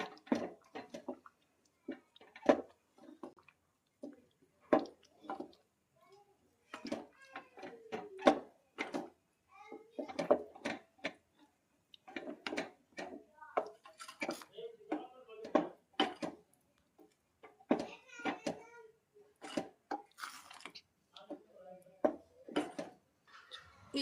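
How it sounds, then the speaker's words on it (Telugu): Spinach paste being stirred into masala in a pan, with soft wet squelches and light spoon taps against the pan in an uneven rhythm, while a person talks throughout. "పాలకూర పేస్ట్ని దీంట్లో వేద్దాం మసాలాలో. వేసి బాగా మిక్స్ అయ్యేలాగా కలపాలి"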